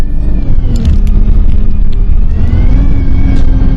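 Vehicles passing on a road, a loud, close rumble of car engines and tyres rising and falling continuously, with one vehicle's engine note swelling as it goes by.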